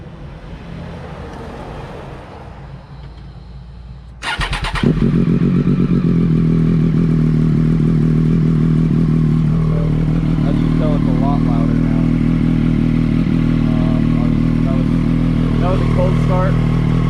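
A Triumph Moto2 race motorcycle engine fires up after a few seconds of quiet background, then settles into a loud, steady idle with a constant low rumble that carries on to the end.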